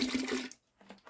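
Orange-scented cleaning vinegar splashing into a bucket for tankless water heater maintenance: a short, close, faint burst of liquid pouring that stops abruptly, then a few soft drips.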